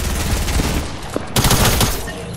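Gunfire in an online shooter game crackles in rapid, loud bursts of automatic fire, with a short pause before another burst.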